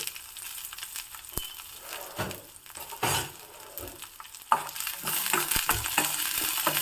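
Green chillies, garlic cloves and ginger fry in a pan with a soft, steady sizzle, broken by a few sharp clicks of a spoon stirring against the metal. The sound is fairly quiet and close, with no talking.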